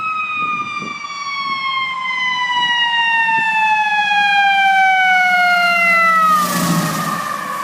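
A siren on a passing emergency vehicle rises to a steady wail, then its pitch drops sharply as it goes by, the Doppler shift clear near the end. It sounds loud and close, with no talking.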